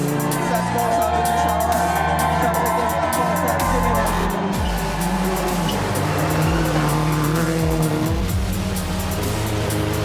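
Rally cars race on a stage at the Rallye Baie des Chaleurs, engines revving and roaring past with tire squeal and skidding, while a narrator talks over the continuous engine noise.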